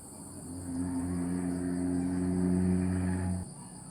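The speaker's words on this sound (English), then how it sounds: "This is the sound of the village in the afternoon." Afternoon village ambience in Luang Prabang, Laos: a quiet, steady bed of high insect drone over a soft, low engine hum that fades near the end.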